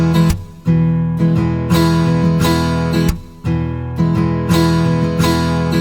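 Rhythmic strumming from the Evolution Guitar Engine sample instrument, ringing chords broken by softer strums on the lowest strings, steady and prominent with nothing else audible.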